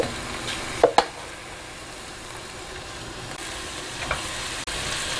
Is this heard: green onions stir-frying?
yes